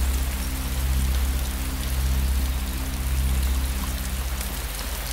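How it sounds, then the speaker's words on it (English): Steady rain pours down on surfaces in the video game DayZ, a dense hiss with a low rumbling undertone that swells slightly and fades. "Still raining."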